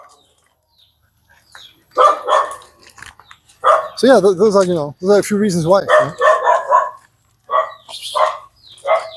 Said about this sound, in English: I see a lot of dogs here, dog commotion.